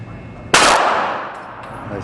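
A single sharp, loud handgun shot cracks at an indoor shooting range, with the target about seven yards out, and a ringing reverberant tail decays over the next second and a half.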